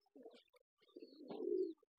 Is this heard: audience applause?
no